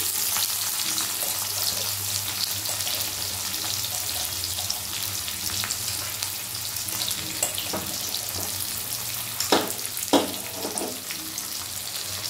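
Chopped onion frying in oil in a kadai, a steady broadband sizzle throughout with a few sharper stirring scrapes near the end; no talking.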